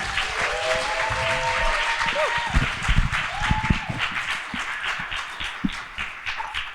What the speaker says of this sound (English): Again, one more round of applause.